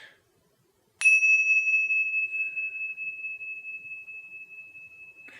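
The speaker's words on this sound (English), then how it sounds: "These are tinchasas, these are bells, very, very, very nice little bells actually." Tingsha bells, small Tibetan hand cymbals, struck once in a quiet room for Reiki energy healing, giving a bright, pure ringing tone that sustains evenly and fades only slowly over several seconds.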